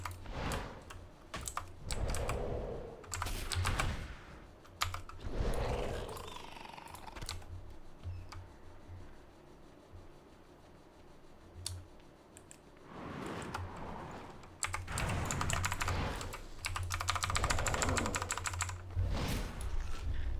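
Fast, clattering typing on a loud mechanical computer keyboard during a World of Warcraft session, with dense bursts of key clicks separated by quieter stretches, close and unaccompanied by talk.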